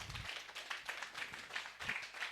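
A church congregation claps for Jesus, a short burst of several ragged, fairly close claps.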